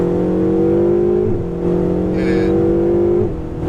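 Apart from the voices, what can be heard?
Ferrari 488 GTB engine accelerating on race track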